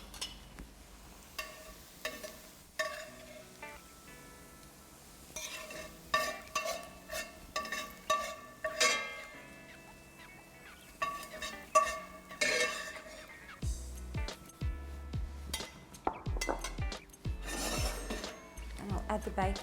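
Softened sweet onions scraped and lifted out of a pan with a utensil, giving repeated close rasping and scraping strokes in an irregular rhythm, with no talk.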